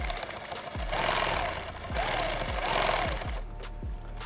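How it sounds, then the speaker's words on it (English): A sewing machine stitches a seam on a Thermacell pouch, its needle thumping in a steady run of rhythmic knocks with a whirring motor hum, close and continuous. "I'm going to sew right down this stitch line."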